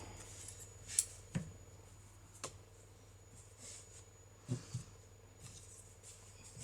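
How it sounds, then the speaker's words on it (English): Scissors snip through yarn after fastening off white crochet work for a Halloween Frankenstein treat bag: a few quiet, sharp clicks spread across a faint, still background. "we can fasten off and cut the yarn"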